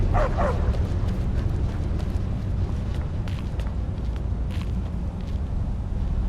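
A couple of dogs bark and yip at a distance over a low, constant rumbling background, in the video game The Elder Scrolls Online, in the city of Markarth.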